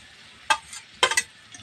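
Boiled eggs fry in a pan as a spoon stirs them, making two short, sharp scraping bursts over a faint, quiet sizzle.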